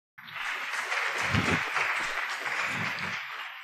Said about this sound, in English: So welcome and give a warm applause to Rich Metson and Harry Rose for...